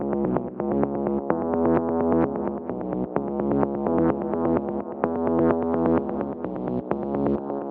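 Synth melody played with the shaper effect removed but the arpeggiator still on, giving a steady stream of evenly pulsed harmonic notes for several seconds, alone and without talk.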